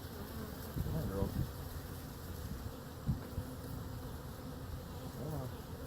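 Honey bees buzzing inside a bee tent while being installed, a dense steady drone of many bees close by, with a few faint bumps and a quiet voice under the hum.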